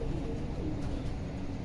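Pigeons coo on a rooftop where grain and water are laid out for them, including a new pair. The low, murmuring coos are steady and close, with a faint background hum and no talking.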